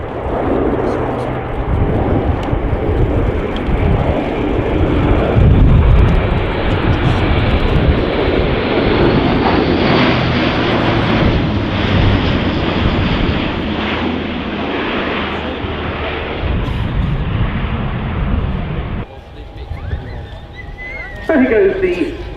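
An Airbus A400M military turboprop transport at the RIAT 2018 airshow makes a loud, sustained engine drone that swells and then eases, with a voice talking over it.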